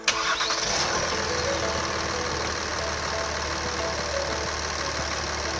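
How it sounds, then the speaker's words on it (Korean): A 2018 Kia Mohave seven-seat SUV engine cranks and catches with a sharp start, then settles into a steady, fairly loud idle that drones on without talk. "일단 엔진 소리부터 한번 들어보고 가시겠습니다"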